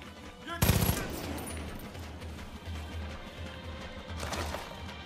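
Gunfire from a Far Cry 5 firefight on PS4 bursts out in a loud, sharp volley, followed by rapid repeated shots and a second burst near the end, all up close.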